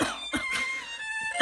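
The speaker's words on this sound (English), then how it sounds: "Thanks for coughing on my mic, by the way." Person coughing right into a microphone, several sharp close coughs spaced across a short moment with no speech.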